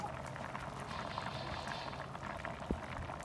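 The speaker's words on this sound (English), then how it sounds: "Got the pot sitting directly on the fire, looking good. Man, look at these beans cooking." Beans simmer in a pot set directly over an open fire in cold weather, giving a steady low bubbling and crackling boil that runs continuously throughout, close by, with one brief knock near the end.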